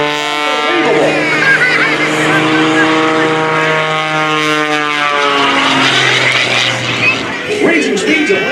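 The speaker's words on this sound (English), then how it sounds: "The aircraft is just hanging in the sky. Not flying, not falling, just hanging." MX aerobatic propeller airplane performing at an airshow, its loud sustained engine drone with shifting harmonic tones as it hovers and maneuvers, continuous throughout with an announcer talking over it.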